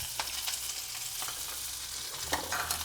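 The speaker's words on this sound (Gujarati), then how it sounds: "અહીંયા તેલ સરસ ગરમ થઈ ગયું છે તો આપણે સમારેલી મેથી તેલમાં ઉમેરી દઈશું" Chopped fenugreek leaves frying and sizzling in hot oil in a pan over a medium gas flame, a steady close hiss with a few soft stirring scrapes.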